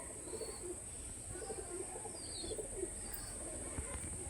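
Pigeons kept in a cage for sale give soft, rhythmic coos in repeated low bursts, fairly faint against steady background hum.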